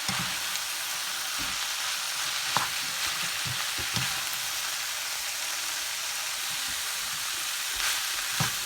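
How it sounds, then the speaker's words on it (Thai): Instant noodles stir-fried with holy basil and century egg in a pan, a steady loud hiss of frying filling the whole stretch, broken by occasional soft scrapes and knocks of the utensil, close up with no voices. "ก็มาผัดให้เขาเข้ากันนะคะ"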